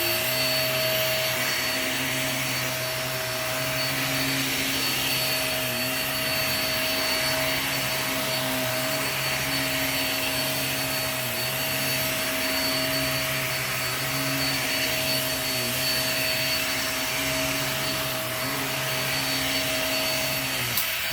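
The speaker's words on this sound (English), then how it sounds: "I want to show you how soft and fluffy this vacuum made the carpet" An upright vacuum cleaner runs steadily on carpet, a loud continuous motor whine with a low droning hum that holds constant throughout.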